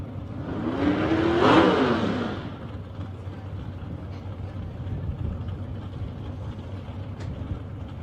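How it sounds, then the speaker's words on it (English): A drag racing car at an ANDRA Grand Final gives a quick throttle blip at the start line, one loud rising-and-falling rev near the start, followed by a steady low engine idle rumble. "Just a quick clear of the throats there in the Baker car."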